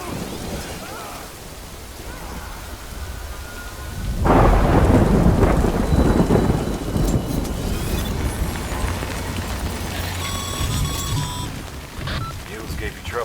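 Steady rain in the game Death Stranding, then a loud, rolling thunderclap that rumbles on for several seconds, with patter and faint tonal game sounds after it.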